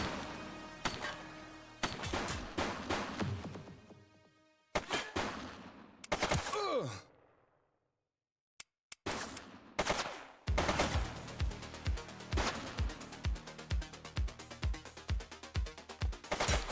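Gunfire from a suspect in the police video game The Precinct cracks out in sharp bursts and single shots, with a short silent gap before a rapid stream of shots resumes.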